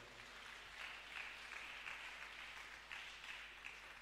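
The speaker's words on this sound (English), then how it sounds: "You want to clap? Clap your hand." A church congregation clapping their hands, a faint, distant and even patter of applause sustained throughout with a few slightly louder swells.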